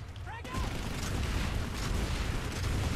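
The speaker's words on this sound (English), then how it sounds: "Grenade, grenade, grenade!" Grenade blast in the online shooter Planetside 2 on PS4: a broad, rumbling boom that swells and lingers over a couple of seconds, with a brief voice just before it.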